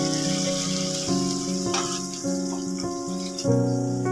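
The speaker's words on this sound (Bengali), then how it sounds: "এবার আমি এতে সামান্য জল দিয়ে দেবো।" Water poured into a frying vegetable curry in a pan, a continuous close splashing and sizzling stream with some steady tonal sound running underneath.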